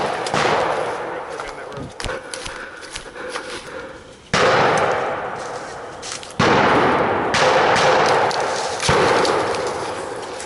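Loud gunfire in WWII frontline combat in 1945: heavy sustained volleys and bursts of rifle and machine-gun fire crack close by, swelling and dropping in waves with short gaps and no letup for long.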